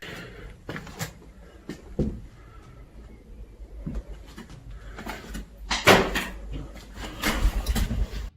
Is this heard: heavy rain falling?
no